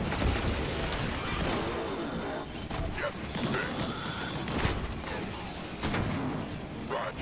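Gunfire crackles through a chaotic combat scene in the shooter Disintegration, with repeated sharp shots and mechanical clatter in dense overlapping bursts amid voices and noisy battle ambience.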